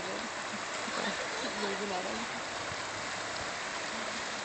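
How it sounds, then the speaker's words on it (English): Rushing river water churns steadily, a constant broad roar with faint voices mixed underneath. "Here they go, through the rapids."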